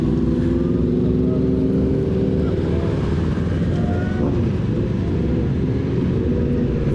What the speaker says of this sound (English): Okay, that's a bike. That is so loud. It went past.